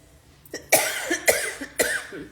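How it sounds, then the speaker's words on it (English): Three sharp, close coughs in quick succession, each a harsh burst with a short pause between, against a quiet background. "I'm just going to apologize now for my endless coughing"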